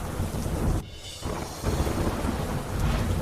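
Rain falling in Surat, south Gujarat, after a dry spell, a steady broadband wash with low rumbling and a brief dip partway through, no voices.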